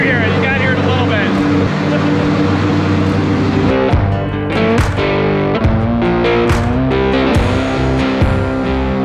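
Supercar engine cold start, a loud, heavy mechanical drone with strong low harmonics that swells and revs sharply in the second half, with people talking over it.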